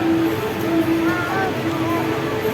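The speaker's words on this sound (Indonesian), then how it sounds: "standby di jalur 6 lokomotif CC 201 untuk dinaskan KA Pramex." CC 201 locomotive and train at Yogyakarta station, a steady low engine drone with a sustained tonal hum and faint squealing, heard close and continuous.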